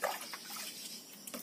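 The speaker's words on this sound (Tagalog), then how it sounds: "Lagyan din natin ng tubig." Water splashes and trickles briefly into a cooking pot holding lagway outdoors, a soft close pouring sound with a few faint drips.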